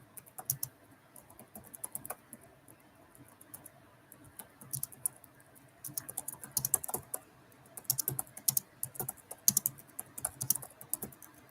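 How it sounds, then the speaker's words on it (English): Fingers typing on a computer keyboard, bursts of quick close key clicks with short pauses between them, fairly quiet and with no talking. "I'm gonna type the name of the artist in there"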